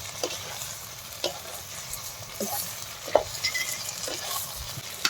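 Duck meat and chunks of pumpkin fry in a pan, a steady sizzle running throughout with occasional stirring scrapes and small clacks, close and continuous with no talking.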